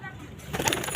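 A pigeon gives a short, close call lasting under a second, heard against faint background noise.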